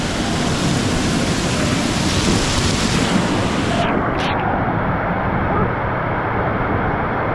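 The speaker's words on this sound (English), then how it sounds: "Under the waterfall." Waterfall at a water park, a loud, steady rush of pouring water heard up close and continuous, drowning out other sounds throughout.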